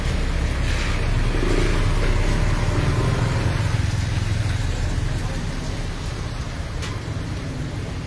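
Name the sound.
heavy rain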